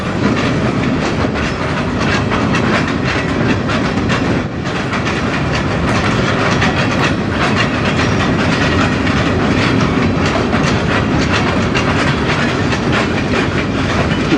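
Three old zebra-striped locomotives push a yard train along the Strathroy Subdivision. A loud, continuous rolling rumble with clickety-clack wheel noise passes close by for the whole stretch, with no talk.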